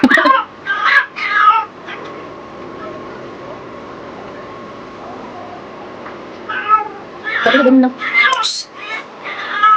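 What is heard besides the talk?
cat meowing loudly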